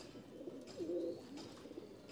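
A pigeon, a bataira-type bird in a home pigeon collection, gives a soft low coo close by, a short rolling call standing out over quiet background murmur.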